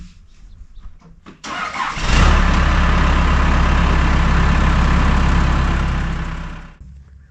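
An engine is cranked and fires up at a carport assembly site, a brief starter whir and then a loud, steady close-up running roar that fades out near the end.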